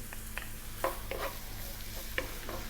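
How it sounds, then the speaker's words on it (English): Garlic frying in olive oil in a wok over above-medium heat, a steady broad sizzle with a few soft stirring scrapes and taps, close, with no talking. "We're going to drop in the garlic."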